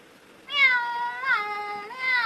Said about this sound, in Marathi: बघा आमची मांजर मधी मधी मधी मधी लुडबडत असते सारखी